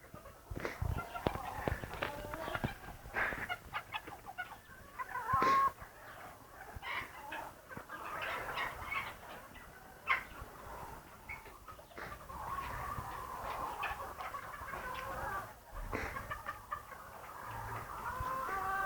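Chickens and this year's young roosters cluck and call in a farmyard, a scattered run of fairly faint clucks with sharper bursts now and then, over a quiet background.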